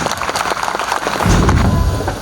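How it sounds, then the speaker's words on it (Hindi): A crowd gives loud, dense applause after the flag hoisting at the Edulympics 2023 opening ceremony at Naval's Academy, Gorakhpur, with a continuous wash of claps that gains a heavy low rumble partway through. "ध्वजारोहण का कार्यक्रम होता हुआ जोरदार तालियों से अभिवादन।"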